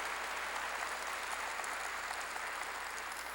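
A church congregation claps during a sermon, a soft, distant wash of steady applause with no voices over it.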